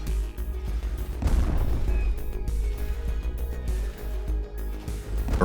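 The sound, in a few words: explosions in a space video game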